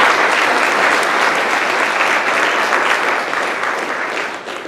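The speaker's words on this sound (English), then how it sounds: "Please, a round of applause for our bronze sponsors." Steady, dense applause from the audience at a Santa Cruz Chamber of Commerce congressional district forum, a continuous wash of many hands clapping at full strength that eases slightly toward the end.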